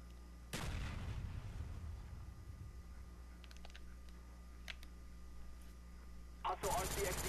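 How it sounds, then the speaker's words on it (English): Gunfire in a Call of Duty multiplayer free-for-all match: one sharp loud blast, then scattered faint clicks and taps, and a second burst of shots near the end. "Shoot you with a drop shot."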